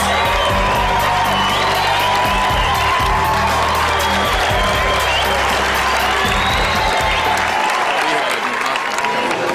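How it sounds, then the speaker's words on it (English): Audience applause and cheering for contestants at a female bodybuilding and body fitness contest, loud sustained clapping with whoops and shouts over a thumping music beat that drops out near the end. "Ladies and gentlemen, round of applause for our contestants in the body fitness contest."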